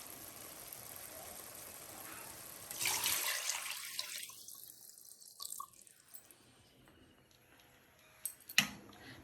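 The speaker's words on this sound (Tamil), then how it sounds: "நல்லா 6 கப் அளவுக்கு நான் இப்போ தண்ணி சேர்க்குறேன்." Water is poured from a measuring cup into a cooking pot of rice for prawn biryani, a soft splashing pour that swells and then trickles off, with faint drips and background hum.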